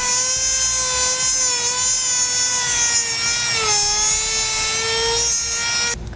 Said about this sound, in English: So we're just going to use a sanding wheel there.